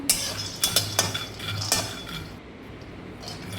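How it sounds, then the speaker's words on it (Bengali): Peanuts dry-roasting in a pan for a sesame and jaggery sweet, heard as a series of sharp clinks and scrapes of a spoon stirring against metal, fairly close and moderately loud, with a faint background hiss and no talk. "এবার আমি একটু বাদামটাকে ভেজে নেব"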